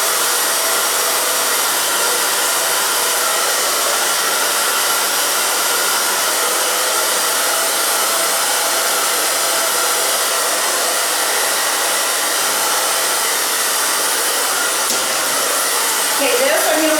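A handheld hair dryer blow-drying a small section of hair during a bang-cutting session, a loud, steady airy whoosh running continuously and close with no pauses.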